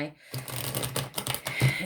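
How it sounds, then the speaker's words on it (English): Tarot cards riffle and shuffle in quick bursts near the microphone, with brief soft murmuring alongside the papery flicks. "I'm going to have a shuffle around in"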